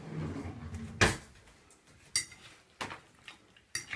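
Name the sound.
mixing haystacks food in a dish with utensil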